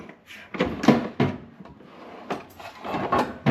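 A toolkit drawer slides open and shut several times in quick succession, close and moderately loud, with short rattling scrapes separated by brief pauses.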